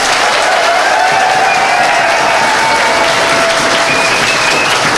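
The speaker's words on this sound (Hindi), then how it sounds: "ताली बजाइए सर के लिए।" A crowd claps loudly and continuously for a physics teacher being honoured, dense applause at close range lasting the full five seconds with faint voices mixed in.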